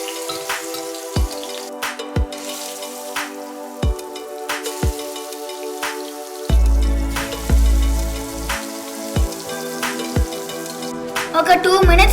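Fish pieces frying in hot oil in a pan, a steady crackling sizzle with scattered sharp pops and spatters close by, over a faint backdrop of soft music.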